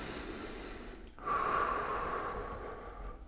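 Close, heavy breathing from someone holding a handstand against a wall during a core stability drill, a steady rush of breath that swells louder partway through and holds.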